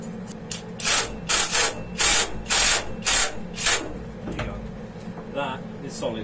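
Welding on a recycled-metal kinetic sculpture: about seven sharp bursts of harsh, crackling hiss, each roughly half a second, come close and loud over a low background rumble.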